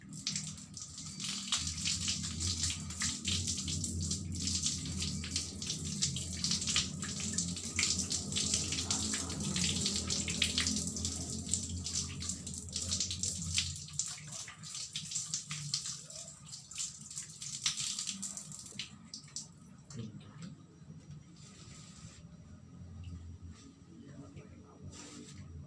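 Water running steadily from a tap while hands are washed, a continuous close hiss that later drops and thins, with voices talking over it.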